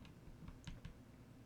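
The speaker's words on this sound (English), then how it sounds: "hit the 3 key on your keyboard" A few light key presses on a computer keyboard during an online board game session of Tainted Grail, three soft clicks spaced apart over a quiet background hum.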